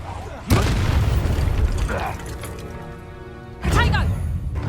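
Spell explosions from the Hogwarts wizarding video game, two loud booming blasts about three seconds apart, each with a crackling burst and a ringing tail, over steady game background noise.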